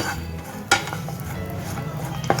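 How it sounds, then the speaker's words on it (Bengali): Dry fruits stirred in ghee over a low flame in a pan, with scraping spatula and metal clinks over a continuous gentle frying hiss, including one sharp clank. "এখন আমি ড্রাই ফ্রুটগুলো এক মিনিটের মতো একটু ঘিয়ে নেড়ে টেড়ে একটু ফ্রাই করে নেব"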